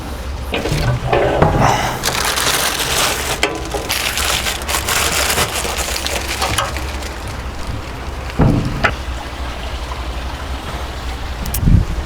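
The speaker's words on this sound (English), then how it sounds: "let me get a razor blade and we'll see if we can trim that up" Razor blade scraping and trimming on a stainless steel front table of a Lone Star Grillz offset smoker, a close, continuous gritty scraping with a few sharper knocks and bumps.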